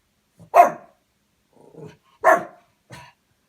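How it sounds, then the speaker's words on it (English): A dog indoors barks loudly twice toward a hallway, each bark followed by a softer huff, with quiet pauses in between. "he started barking at something in the hallway again"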